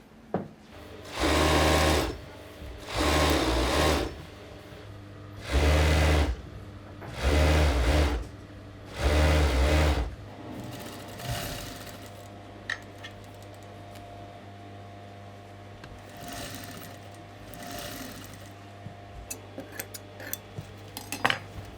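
A tailor's sewing machine stitches seams on a Savile Row suit in five loud bursts of rapid whirring needle action with short pauses between them, followed by quieter workshop clatter and faint handling sounds.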